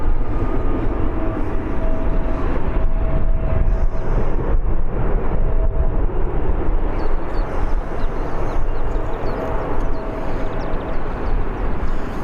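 Aer Lingus airliner on the ground at Birmingham Airport, a continuous loud jet engine roar with broadband rumble holding steady throughout, no voices.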